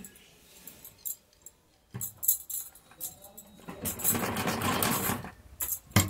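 A sewing machine stitches a pocket onto pants, starting with a few short, separate runs and then settling into a steadier, louder whir of stitching near the end.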